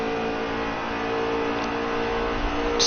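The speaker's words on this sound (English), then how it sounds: "over the sound of the cars, I cannot hear anything right now" Race car engines in the video game NASCAR Heat 3 drone steadily at high revs, a loud, continuous whine that fills the whole stretch.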